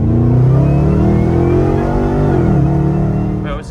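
Dave's old car, the W547 VF2 SSV, setting off for the muffler shop, its mid-pitched engine revving steadily and close by with rising and falling harmonics, running alone the whole time.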